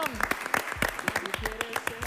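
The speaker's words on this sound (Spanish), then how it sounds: "Lo despedimos con un fuerte aplauso." Studio applause on a television talk show, with a brief burst of clapping under overlapping voices as a guest is sent off.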